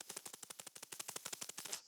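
A voice imitates police-film gunfire with a rapid, steady burst of about twenty close, punchy shots, like machine-gun fire, lasting nearly two seconds before stopping abruptly.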